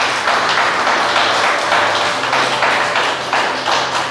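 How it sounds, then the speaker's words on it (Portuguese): A church congregation clapping together for Jesus, a steady, dense patter of many hands filling the room, loud and continuous without a break. "Palmas para Jesus novamente."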